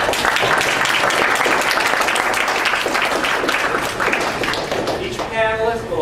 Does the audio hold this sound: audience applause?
yes